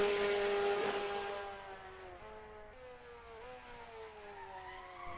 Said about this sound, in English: Sliding, bit of a power slide there